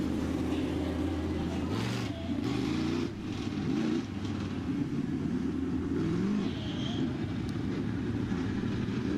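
Dirt track modified race cars idle and rev at a Southern Ontario speedway before a feature event, a loud continuous engine drone with shifting pitch filling the whole stretch, close and dense.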